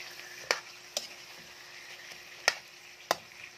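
A spoon stirs chicken adobo with wings, liver, gizzards, eggs and potatoes in a cooking pot, giving a few sharp scraping knocks against the metal over a soft, steady simmering sizzle.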